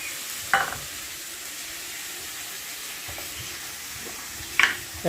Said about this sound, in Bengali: ভাজা না করলে গন্ধটা থেকে যাবে না খেতে ভালো